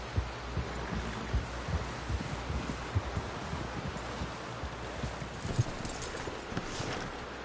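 Horse hooves clop at a steady walking rhythm on soft ground in the Western game Red Dead Redemption 2, a muted and fairly quiet beat over light rustling and ambient background.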